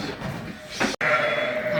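A sheep bleats loudly and close by, two short calls broken by a brief pause.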